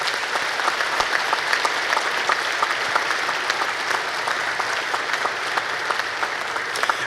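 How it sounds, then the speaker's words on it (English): An audience gives sustained, even applause, many hands clapping steadily for about seven seconds with no voices standing out above it. "Let's give these young leaders a round of applause."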